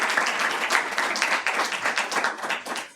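A lecture audience breaking into applause after being prompted, a brisk steady burst of many hands clapping, fairly loud and close, with no talking.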